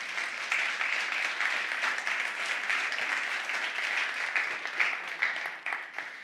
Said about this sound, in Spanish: Alguien aplauda eso si quiere.